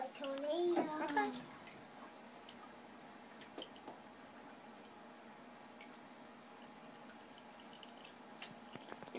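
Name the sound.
bathtub water swirling down the drain like a tornado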